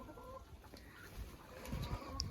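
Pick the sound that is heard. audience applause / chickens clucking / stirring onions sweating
chickens clucking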